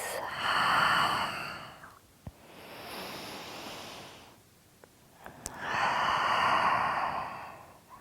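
A long, airy exhale during a yoga forward fold, sounding as two broad breathy swells separated by a quieter stretch with faint clicks, close and soft with no talk.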